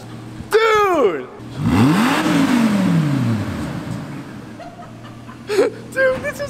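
A 2005 Lamborghini Gallardo engine blips in sharp revs, dropping and rising again close by, with excited voices talking and laughing around it.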